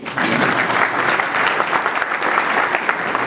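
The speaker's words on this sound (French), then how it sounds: "Vos applaudissements, s'il vous plaît." An audience at an international forum on medicinal and aromatic plants in Fez in 2015 applauds with steady, dense clapping throughout, loud and close, with crowd murmur underneath.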